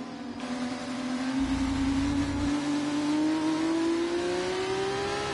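A race car engine in a racing video game revs up in one long, steadily rising whine, loud and close, with no talking.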